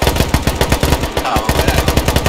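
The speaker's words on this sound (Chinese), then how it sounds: "有一个机枪兵边开枪边冲过来，边装子弹" Rapid, sustained machine gun fire from a military shooter game, each shot sharp and evenly spaced in a continuous loud burst with no talk over it.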